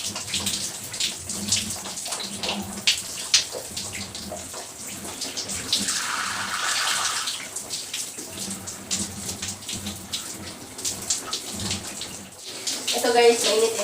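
Hot water runs steadily from a tap, filling a steamy bathroom with a continuous hiss and splash that swells in the middle, with a voice talking faintly over it and a brief clatter near the end.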